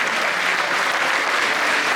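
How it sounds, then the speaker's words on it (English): Dense, sustained applause from an audience at a natural bodybuilding show, loud and even throughout with no pauses. "a huge round of applause for a fantastic stand-up of first"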